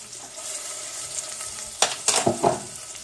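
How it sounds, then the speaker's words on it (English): Chopped garlic cooking in melted butter for garlic knots: a steady low sizzle and crackle that swells into several louder bursts of spattering in the second half, close by, with no talk. "You want to melt the butter and cook up that garlic"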